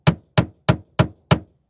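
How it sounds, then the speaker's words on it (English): Five sharp, evenly spaced taps from a small hammer striking a metal shifter pin during a short throw shifter install on a 2003–2013 Toyota Corolla 1.8, each a crisp close knock with quick decay. "use a small hammer"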